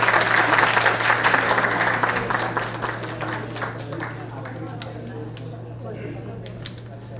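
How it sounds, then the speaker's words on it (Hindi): An audience at an annual day celebration bursts into applause, loud at first and then thinning to scattered claps as it fades, with a steady low hum beneath. "तालियां।"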